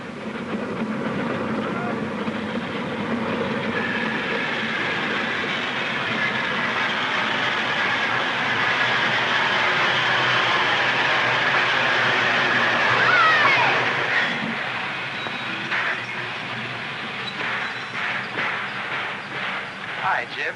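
A train runs steadily on rails with a continuous rumbling roll and rhythmic clatter, building slightly before sharper clacks and knocks toward the end, with voices heard over it.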